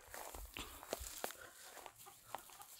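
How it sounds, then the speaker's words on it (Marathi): Chickens peck and cluck among buffaloes in a village cattle shed, with several short, soft clucks scattered irregularly and faint shuffling steps, quiet and close. "त्यांच्या त्या गोठ्यात कोंबड्या आपल्याला चरताना दिसत आहेत, दाणे खाताना दिसत आहेत"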